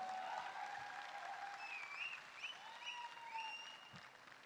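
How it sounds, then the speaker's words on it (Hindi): A crowd at a direct-selling event in Patna gives sustained, dense applause to welcome a speaker, with a few whistles rising over the clapping throughout. "कृपया मेरे ग्रेट अपलाइन लाइफलाइन के लिए एक जोरदार तालियों के साथ स्वागत हो"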